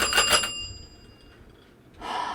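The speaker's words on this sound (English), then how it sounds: "Ding, ding, ding, ring the bell." A bell rings with bright, sustained metallic tones at the start, then fades into a quiet pause before a second burst of ringing near the end. It is close and fairly loud, with no talking over it.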